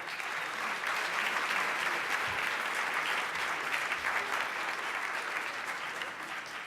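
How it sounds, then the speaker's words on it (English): A conference audience gives a steady round of applause, a broad, even wash of clapping that holds for several seconds before slowly easing. "Let's give David another round of applause."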